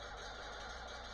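A tractor engine, a 40 series John Deere model, idles steadily in Farming Simulator 19, a continuous rumble with no distinct start, heard alone.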